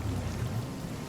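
A rain spell from the video game Divinity: Original Sin, cast in turn-based combat, makes a brief, steady wash of dense rainfall with a low rumbling undertone throughout.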